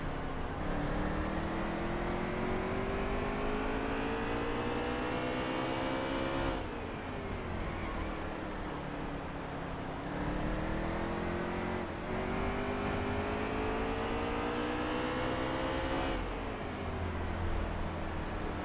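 A NASCAR Heat 3 Cup car at Martinsville revs hard out of the corners, its engine pitch climbing and dropping in repeated sweeps over a steady roar, loud and close throughout.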